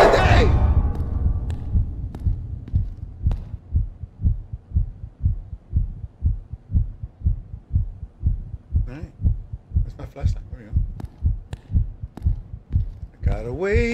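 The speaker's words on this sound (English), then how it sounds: "My heart is beating." A steady, thudding heartbeat from the horror game Night People pulses throughout, loud and low with a regular double-beat rhythm, while someone speaks briefly over it near the end.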